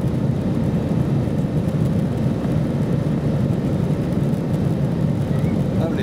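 Steady loud roar of a Lufthansa Airbus A320 jet during takeoff from Copenhagen, heard from inside the economy cabin as a continuous broadband rumble with no break, a voice faintly present beneath the engine noise.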